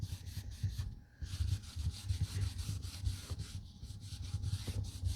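A rag rubs clear wax onto chalk-painted furniture in quick back-and-forth strokes, a soft close-up scrubbing rhythm with one brief pause, heard alone.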